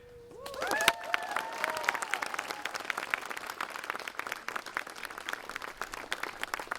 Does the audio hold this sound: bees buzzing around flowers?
no